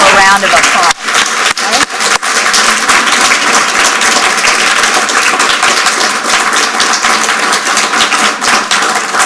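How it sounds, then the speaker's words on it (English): Applause from the audience at a Board of Education candidate forum, a loud, dense wash of many hands clapping that holds steady for the whole stretch, with a brief dip early on. "Let's give them all a round of applause."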